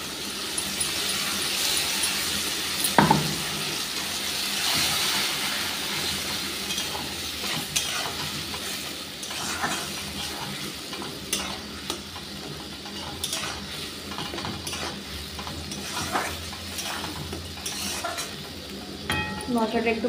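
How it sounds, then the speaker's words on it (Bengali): Spiced paste sizzles and fries steadily in a hot pan for a Bengali fish curry with cauliflower and potato, with occasional scrapes and clinks of a stirring spoon; no one speaks. "মশলাটা একটু ভাজা হোক"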